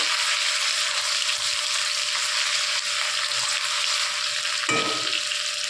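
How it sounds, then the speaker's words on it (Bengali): Ginger, garlic and green chili paste sizzling steadily in hot oil, with a close, continuous frying hiss that runs throughout and a brief stir or scrape near the end. "এবার হালকা করে এটা তেলে নেড়ে নিয়ে"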